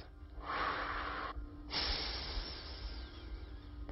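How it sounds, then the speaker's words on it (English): A group breathes together, drawing air in through the nose and letting it out through the mouth, heard as two long, loud whooshing breaths separated by a short pause, with no talking. "we're going to be breathing in through our nose for a count of 3"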